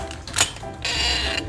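A noisy residential garage door in need of repair opens with a harsh mechanical creak and grinding squeal, loud and close, rising into a sustained screech over a short span.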